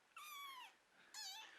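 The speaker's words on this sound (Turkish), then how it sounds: "Sadece alışma evresinde olduğu için biraz miyavlıyor" Two loud, drawn-out cat meows close by, the first longer and the second shorter after a brief pause, with no talking.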